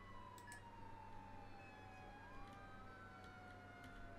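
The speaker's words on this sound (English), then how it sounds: "Emergency lights, then a siren." A wailing emergency siren from a Roblox fire vehicle sweeps slowly in pitch over a steady electronic hum, with a few short clicks scattered through it.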